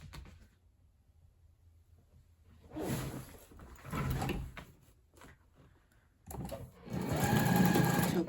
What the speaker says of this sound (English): we're going to go back to the machine. We're going to stitch here.